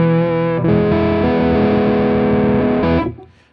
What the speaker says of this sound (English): if you hear all that hiss coming through, it's coming through on that drive